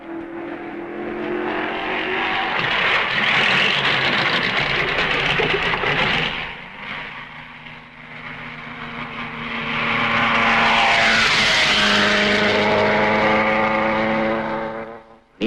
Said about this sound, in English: Sterling Moss is in the Mercedes training car, carrying the letter T.